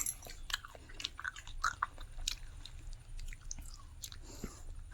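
Someone eats cut pineapple, bought at a rainy Saturday market, with close, repeated biting and chewing crunches in an uneven rhythm over steady low background rumble.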